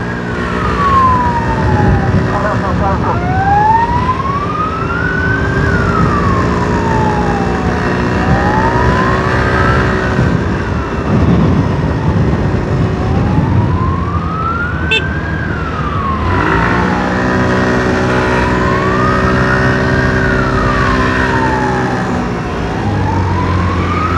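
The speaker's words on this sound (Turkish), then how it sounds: "Bugün bu ambulans yanımızdan geçiyor" A loud ambulance siren wails up and down in slow, repeating sweeps as it passes close by, over the rumble of road traffic.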